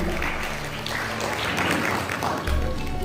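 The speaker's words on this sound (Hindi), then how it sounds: "जोरदार तालियों से स्वागत करेंगे परम यादव जी" Applause from an audience welcoming a guest at a Hindi-language social welfare award event, steady and continuous for about three seconds.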